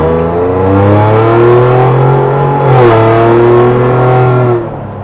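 Tuned Ford Bronco engine with downpipes pulls hard under acceleration, a loud, steady rising drone heard from inside the cabin with no talk over it, easing off near the end.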